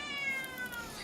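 A cat meows once, a drawn-out, plaintive cry heard close and alone.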